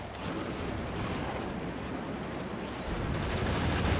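Grenade explosions and gunfire in the Factorio video game, a dense, loud, steady roar of blasts with no distinct gaps.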